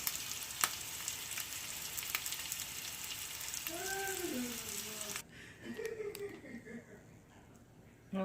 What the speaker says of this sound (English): I flipped the patties, I cut them up, and now I'm caramelizing them on